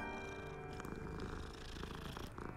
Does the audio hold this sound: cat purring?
yes